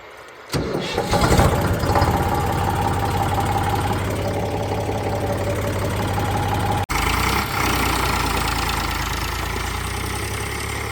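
A tractor engine cranks and catches, then settles into a steady, loud, rumbling idle close by that carries on after a brief cut, with no talking over it.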